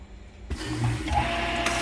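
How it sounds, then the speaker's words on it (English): A sink drain pump system switches on abruptly, bringing a steady mechanical whir with water rushing and gurgling, close and continuous, two pumps running together. "You can hear 2 pumps going right now."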